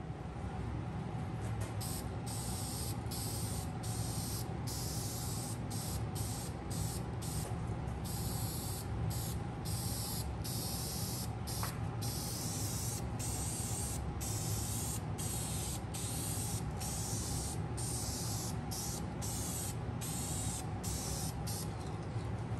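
Spray paint hisses in a light coat over Honda CT70 parts, a close, steady aerosol spray running almost unbroken with quick rhythmic pauses as the nozzle is released and pressed again, with no voices.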